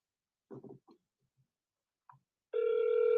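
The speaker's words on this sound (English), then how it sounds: "All right, I'm gonna call from my phone." A phone rings on an outgoing call, a steady tone lasting about a second after a few short clicks and button sounds, heard alone and fairly close.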